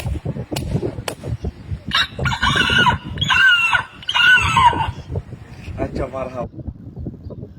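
A voice mimics a rooster crowing, drawn-out warbling calls repeated twice, amid clucking noises and background chatter.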